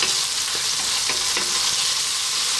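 Bell peppers with garlic and ginger fry on high heat for a chickpea coconut curry, giving a steady, loud, close sizzle with a few soft stirring clicks and no talking.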